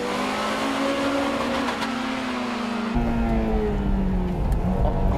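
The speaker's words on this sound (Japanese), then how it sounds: "ちょっとホイールスピン" A 1996 or 1998 spec Honda Integra Type R DC2 on 16-inch Potenza tyres pulls away hard with slight wheelspin, its engine note climbing loudly through the revs before a gear change.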